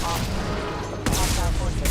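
Gunfire in the video game Mass Effect bursts out in a loud, continuous volley, a dense rattle of shots that swells sharply halfway through and stays heavy to the end.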